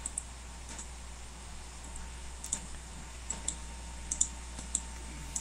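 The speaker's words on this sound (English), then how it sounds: "I'm trying to type as soft as I can." Soft, light clicks of typing on a computer keyboard, sparse and irregular, fairly faint over a low steady hum.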